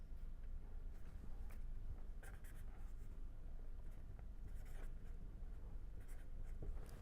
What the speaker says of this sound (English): So I am writing it fresh here.